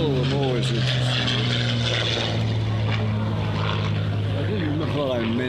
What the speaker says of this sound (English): watching those World War I planes that are 100 years old